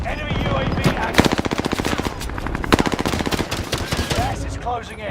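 Dense automatic gunfire in a Call of Duty-style battle royale game, bursts of rapid machine-gun rattle and sharp shots stacking loudly over game effects, with a brief lull and renewed firing throughout.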